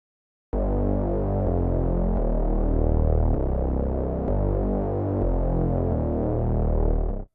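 A thick, sustained synth bass from the Shepherd Tone Template preset drones steadily for several seconds, loud and dense, with subtle pulsing changes in tone before it cuts off abruptly.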